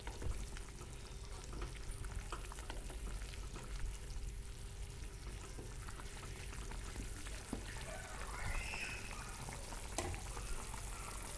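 A pot of Assamese-style local chicken curry bubbles and sizzles steadily and softly throughout, a continuous close crackle with faint clinks, and no voices.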